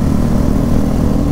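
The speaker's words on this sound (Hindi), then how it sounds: "सबसे ज़्यादा यही एक लाउड है, लाउडेस्ट बाइक है पूरा" A loud motorcycle engine revs in a steady, deep, throaty rumble, close and continuous, heard alone on a holiday ride to Shishupal mountain in Chhattisgarh.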